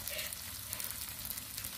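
Small batter-coated field shrimp fry in hot oil, giving a steady, close sizzle with a soft crackle that holds evenly throughout.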